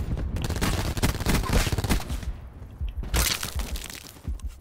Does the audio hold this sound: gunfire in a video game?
yes